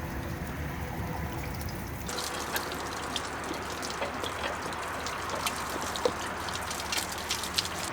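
Water gushes steadily out of an RV water heater tank through the open anode rod port, the tank holding a heavy buildup of calcium; a quiet start gives way to a continuous close, splashing drain flow.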